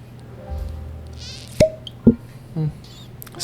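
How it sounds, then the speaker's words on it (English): Cork pulled from a bottle of El Tequileno Reposado Gran Reserva tequila, giving one short, close, hollow pop with a second smaller squeak, amid quiet handling. "Yeah, nice little cork sound."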